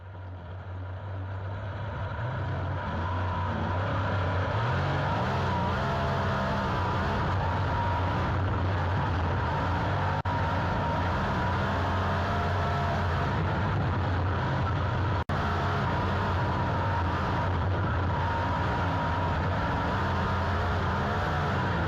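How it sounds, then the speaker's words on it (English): Race car number 69 runs a qualifying lap at Boomtown Speedway in a Slide-Outlaws event, its engine a continuous loud, rough drone that rises and falls slightly throughout the lap. "It appears Arlo has no trouble passing tech and will head out onto the track for his first lap."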